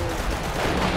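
Dense, continuous gunfire in the video game Primal Carnage, a steady loud barrage of shots with no clear gaps, heard alone with no talking.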